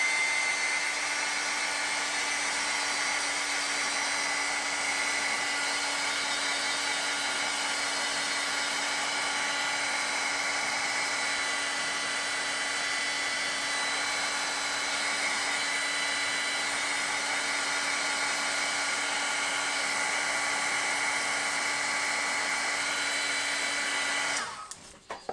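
A hair dryer blows steadily and loudly for a long stretch, drying paint on a canvas, its whirring hum constant before cutting off abruptly at the end.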